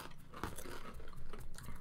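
Someone bites into a folded Nacho Cheese Dorito, giving close, quiet crunching and chewing with a sharp bite snap early on, then continuing uneven crackles.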